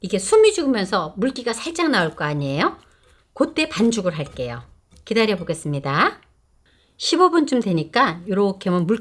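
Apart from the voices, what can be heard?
None of the usual background noises is heard.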